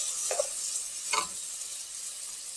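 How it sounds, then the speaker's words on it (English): Onion, garlic and banana potato sautéing in a pan, a soft, steady sizzle with two brief stirring scrapes, close and fairly quiet. "we're just gonna saute that for just a minute or two"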